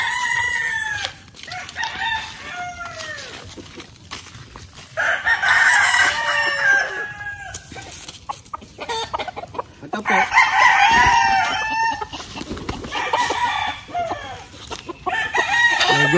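Gilmore gamefowl roosters crow repeatedly with clucking among them, loud and close, with overlapping calls throughout and someone talking briefly.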